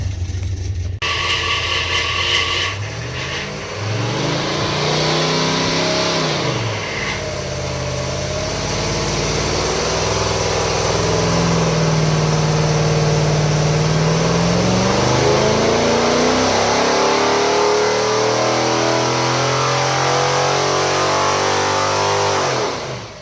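Engine of a 1966 Ford Mustang Fastback revving on a dyno, a loud sustained roar with rising and falling pitch sweeps over about twenty seconds, no talk.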